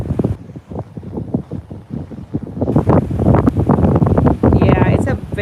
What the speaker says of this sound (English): I'm trying for you guys not to hear all that wind